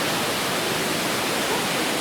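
Fukuroda Falls in Ibaraki, a 120-metre-high, 73-metre-wide waterfall lit up at night, roars as a steady, loud, dense wash of falling water with no voices.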